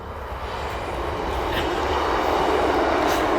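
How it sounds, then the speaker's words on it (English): A train rolls past on a railway embankment, a loud, broad rumbling roar that swells steadily and holds for several seconds, close by, with no talking. "So quite fitting as the train goes past"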